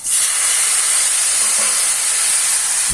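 Spice-washing water splashes into a hot pan of sautéed masala for a Bengali village-style fish curry, setting off a loud, steady hiss of sizzling and steam that runs through the whole stretch.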